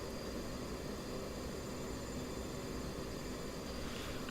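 Aircraft engine noise in DCS flight simulator, apparently an F-4 on approach to runway 26, a steady continuous drone heard alone.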